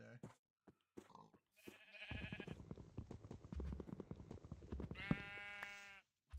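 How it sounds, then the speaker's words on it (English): Sheep in Minecraft give two loud, near, wavering bleats over a stretch of shuffling and soft thumps, with a faint voice at the start. "Hey, there's a brown sheep."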